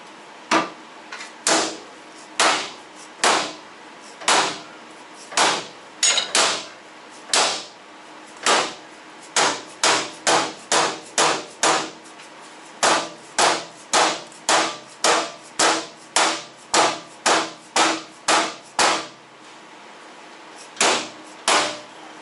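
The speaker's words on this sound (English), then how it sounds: "You might be able to hammer on it, get it straighter." A Kenworth T680 truck's side fairing is struck with a hammer in about thirty sharp metallic blows, close and loud, coming in irregular bursts with short pauses and no talking.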